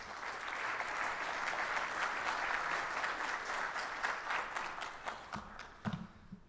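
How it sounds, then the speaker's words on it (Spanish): Audience applause at an international security and defense symposium, sustained dense clapping from a large seated crowd that holds steady before thinning into a few scattered claps at the end. "Para él pido un fuerte aplauso."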